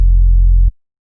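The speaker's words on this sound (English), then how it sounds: "I'm just going to draw in a few bass tones" A low sub-bass tone drawn in an Ableton Operator synth hums as one clean, steady note for under a second, then cuts off abruptly into silence.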